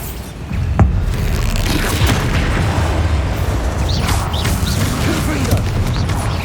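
Bombarda spell explosions in the Hogwarts Legacy video game: a loud, dense run of booming blasts and crashes during a troll fight, with a sharp hit near the start, busy effects throughout, and shouted spell voices under the chaos.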